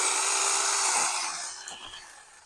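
Small battery-powered TOMY ViC six-inch mini electric chainsaw cutting branches on an old backyard tree: a steady, high-pitched motor whine, loud and close, bogging slightly as it bites in, then trailing off.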